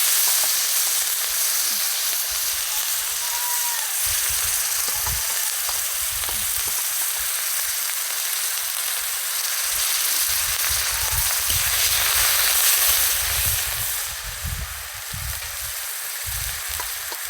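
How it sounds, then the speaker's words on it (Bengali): Onion paste and cardamom sizzle steadily in hot oil in a pan while a Bengali bhetki fish curry is being cooked. The loud, continuous frying hiss carries on throughout with some stirring noise and no talk. "এবার আমি একটু এলাচ ফোড়ন দিয়ে দিলাম, পেঁয়াজ বাটা দিলাম"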